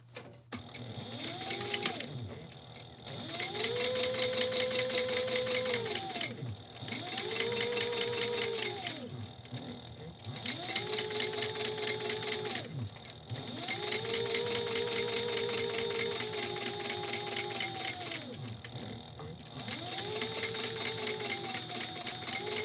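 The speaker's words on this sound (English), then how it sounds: "I'm going to flip it over and sew along the top edge at 1/4 inch seam allowance" A sewing machine stitches the top edge of fabric at a quarter-inch seam in repeated bursts, each run whirring up to speed, holding, and winding down, with short pauses between runs.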